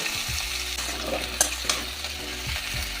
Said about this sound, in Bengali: সবজিটা আমি ভালো করে ভেজে নেব